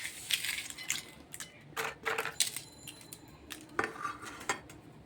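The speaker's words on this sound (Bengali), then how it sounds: "এখন আমি পাপড়ি চাট হাত দিয়ে গুঁড়ো করে দিয়ে দিচ্ছি।" Crispy papri being crushed by hand for churmur, an Ekadashi snack, makes scattered dry crackles and crunchy snaps in short irregular bursts, close and fairly quiet, with no talking.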